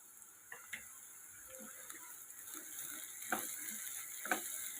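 Spices are stirred into a pan of cooking ivy gourd and cashew curry with quiet scraping and tapping. A soft sizzle stays low in the background.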